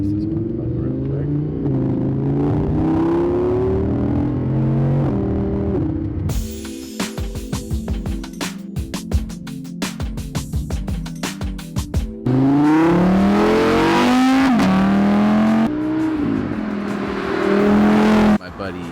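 A 2018 Audi R8 V10 Plus engine revs hard and climbs through the gears while overtaking another car, with loud rising engine tones broken by a rough, rattling stretch of wind and road roar before the engine pulls strongly again.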